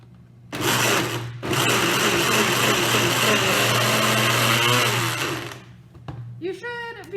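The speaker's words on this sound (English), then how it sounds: "Put it in your blender" A kitchen blender whirs loudly for about five seconds, pulping soaked paper with water for seed tags, a steady high motor drone starting abruptly and cutting off, followed by a person talking.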